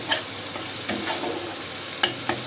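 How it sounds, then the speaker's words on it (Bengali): Spices sautéing in the leftover oil from frying fish in a home kitchen: a steady close sizzle with stirring scrapes and a few sharp clinks of the spoon against the pan. "মাছ ভাজার তেলটাতেই মশলাটা কষানো হলে"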